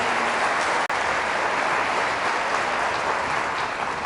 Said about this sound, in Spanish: Fuertes aplausos al Rey de Reyes y Señor de Señores